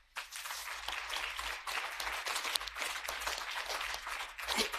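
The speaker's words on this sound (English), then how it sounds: "let's give him a big round of applause" A panel discussion audience breaks into sustained applause, dense clapping from many hands that holds steady for several seconds, heard from within the room.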